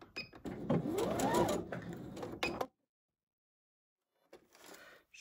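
A sewing machine stitches a backtack while sewing a tank top, running in a steady whirring burst for a few seconds, stopping, then briefly starting again after a pause.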